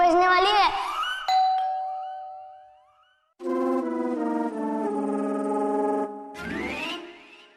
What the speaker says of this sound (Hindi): थोड़ी देर में घंटी बजने वाली है